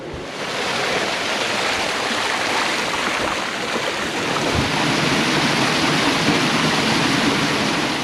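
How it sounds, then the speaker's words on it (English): Steady, loud rush of a mountain waterfall on the Isle of Skye, Scotland, splashing into small natural pools, a continuous broadband roar with no voices. "a waterfall that starts up in one of the high mountains, and it's dropping into all these little natural pools"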